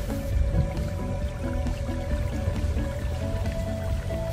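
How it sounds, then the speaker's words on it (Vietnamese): Stream water flowing beside rural land near a lake, a steady close gurgling rush that runs the whole time without breaks, fairly loud, with no voices. "Nước suối chảy đây."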